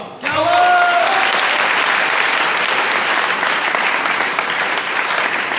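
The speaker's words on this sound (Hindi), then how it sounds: "सबको ताली खुद के लिए एक बार" A seminar audience in Patna applauds itself at a direct-selling motivational event, a loud, steady roar of clapping that swells in quickly and holds, with a few voices calling out at the start.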